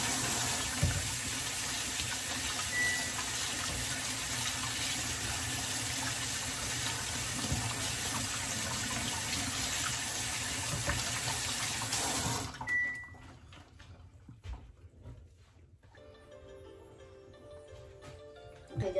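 A kitchen tap runs in a steady loud rush of water while hands are washed, then shuts off abruptly, leaving quieter scattered clinks and small handling sounds.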